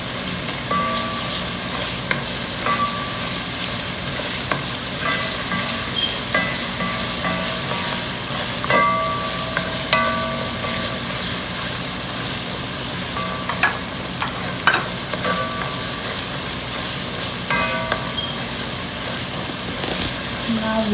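Mutton curry masala cooking in a pan, a steady loud sizzle and frying hiss with occasional stirring clatters throughout, close by.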